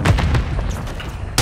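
Loud, booming gunfire from a shooter video game, with a heavy blast at the start, a rumbling decay, and another sharp report right at the end.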